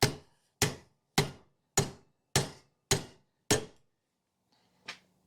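A big hammer knocks out a heated upper control arm bushing on a Chevelle: seven loud, evenly spaced sharp metallic strikes ringing briefly, then a pause and one softer blow, no talk.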